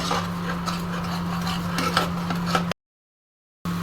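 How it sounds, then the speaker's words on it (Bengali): A spoon scrapes and stirs potol dolma masala in a pan over a low flame, with soft repeated rubbing and light clinks over a steady hum, then a brief silence before the hum returns. "সুন্দর করে নেড়ে চেড়ে একদম লো স্টিমে এটাকে কষিয়ে নেব।"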